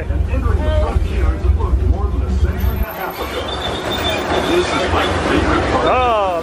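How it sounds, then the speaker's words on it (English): A Disneyland Resort train passes with a steady rumble and rail noise, then a high metallic squeal near the end, while people talk and laugh close by over it. "Oh, there's the train."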